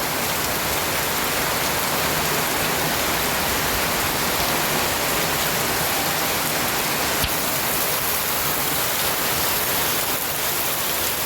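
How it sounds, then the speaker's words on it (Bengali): Dense, steady downpour hisses continuously, a loud broadband wash of rain with no voices. "দেখো কি হারে বৃষ্টি হচ্ছে এখানে"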